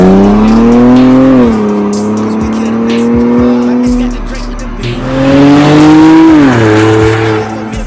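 Infiniti Q50 with muffler and resonator removed, straight-piped with 5-inch tips, revving loudly up and down in two long swells, its deep raspy exhaust close and dominant.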